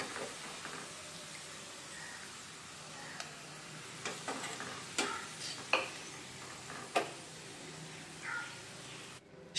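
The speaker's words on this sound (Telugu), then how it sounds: "చూడండి ఫ్రై అవుతున్నాయి. ఇవ్వండి గోల్డ్ కలర్లో ఫ్రై అయిపోయినాయి." Chicken pieces fry golden in a pan for chicken dum biryani, a soft, quiet sizzle with occasional clinks and scrapes of stirring, fairly faint and without talk.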